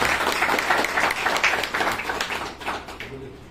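Audience applause at a college celebration of the Chandrayaan-3 success, a moderately distant, steady patter of many hands clapping that thins out toward the end.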